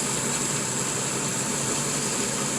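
Outboard boat engine running steadily while being fogged during winterizing, a constant dense mechanical drone with hiss and no speech.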